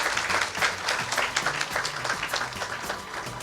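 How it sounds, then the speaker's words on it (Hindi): A studio audience in a television newsroom gives dense, sustained applause at full strength throughout, close and loud. "भाई तालियां खूब बज रही हैं"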